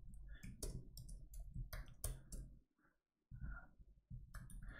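Typing on a computer keyboard, a quick run of close key clicks with a short pause partway through, fairly quiet.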